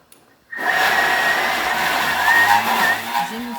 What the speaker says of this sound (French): On va prendre un mixeur. On va rajouter nos pois chiches. Et on va les mixer pour faire une purée.